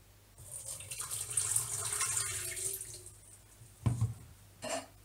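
Water poured from a tap or jug onto yeast and sugar in a bowl for bread dough, a soft splashing stream for a few seconds, then brief clatters.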